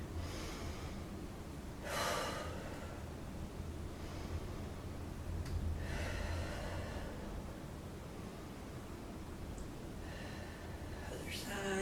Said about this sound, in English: And then start your deep breathing.